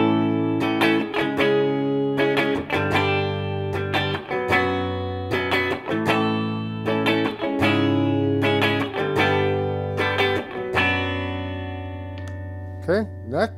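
Electric guitar chords and picked notes through an Epiphone with both pickups ring out with a wash of reverb and no other effects, strummed steadily and close, tails lingering between strokes.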